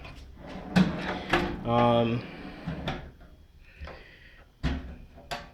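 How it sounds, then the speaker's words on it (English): Drawers of a Harbor Freight four-drawer metal roller tool cart slide shut with sharp clanks and snaps, followed by the lid closing with a rattling clunk, while a person talks nearby. "they snap into place, and the lid closes, and it does lock"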